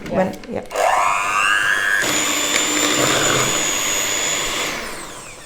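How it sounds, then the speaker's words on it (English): Electric mixer whirring steadily as pistachio recipe ingredients are blended, starting after a brief burst of talk and a rising motor whine, then running loud and continuous before easing off at the end. "I'm gonna mix that"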